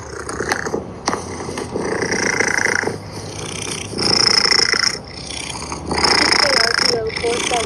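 Person imitating cat sounds, with purring, growling and meow-like vocal noises in uneven bursts, some loud and nasal, over a background of rain and street noise outdoors.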